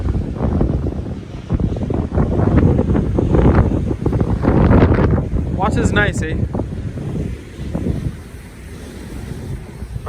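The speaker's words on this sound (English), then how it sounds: "This wind is expected to go on into the night." Strong coastal wind on the Durban shore at spring tide, roaring and buffeting the microphone over surf wash, loud and constant, while someone speaks briefly.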